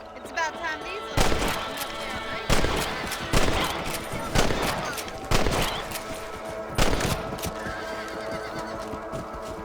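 Rifle gunfire at rabbits on a ranch in Red Dead Redemption, PS5: a steady series of about six loud single shots spaced roughly a second apart, with horses neighing and talk underneath.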